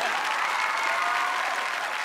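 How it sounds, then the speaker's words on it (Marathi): A studio audience at a Marathi comedy show breaks into loud, sustained applause, dense and even throughout with no pause. "जोरदार टाळ्या झाल्या पाहिजे."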